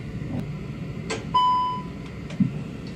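An airliner cockpit's non-specific failure alarm sounds as a single clear electronic chime tone lasting about half a second, followed by a short click, over a low steady cockpit hum.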